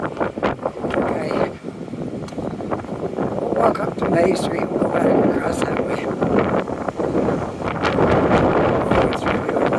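Strong, cold gusts roar and buffet the microphone on a city street walk through the Young and Robie neighbourhood, rising and falling in waves while someone talks over the rushing wind throughout.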